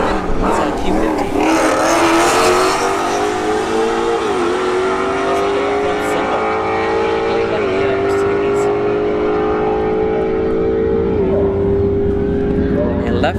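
Loud engines of a Mustang and an Infiniti Q50 racing at a drag strip, revving hard through several rising gear pulls as the cars accelerate away, with voices talking over the roar.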